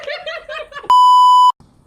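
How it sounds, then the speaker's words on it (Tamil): A censor beep cuts in sharply after brief chuckling and laughter: a single loud, pure electronic tone held for about half a second, then abrupt silence before faint sound resumes. "அது நம்ம சொல்ல வேணாம், பீப் போட்டுருவோம்."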